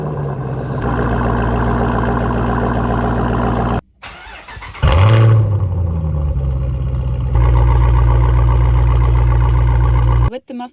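A Jeep Trackhawk V8 fitted with Valvetronic exhaust mufflers rumbles loudly, then drops away briefly before a hard rev and a steady, heavy idle, with some brief pauses.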